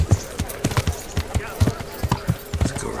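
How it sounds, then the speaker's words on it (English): Horse hooves clip-clop at a steady walking rhythm in the medieval video game Kingdom Come: Deliverance, the soft thuds repeating evenly and close by. "Let's go ride our horse around a little bit."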